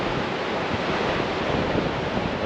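Ocean waves crashing onto rocks below coastal cliffs, a loud, continuous roar of surf with some wind rumble.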